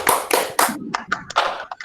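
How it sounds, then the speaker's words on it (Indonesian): A small class claps for a classmate, with a few distinct bursts of hand clapping separated by short gaps, close and sparse rather than a full crowd. "Tepuk tangan untuk Mbak Fitri"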